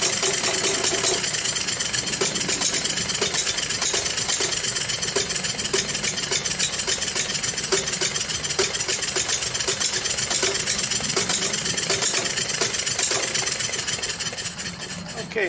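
An antique 1895 Mery explosive engine runs steadily at slow speed, a loud, continuous mechanical chugging with fast rhythmic firing pulses that carries on without a break and eases slightly at the very end.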